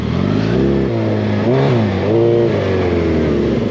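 A street bike fitted with a paddle tire revs hard on sand dunes, its engine loud and close, rising and falling through several throttle blips with no talking.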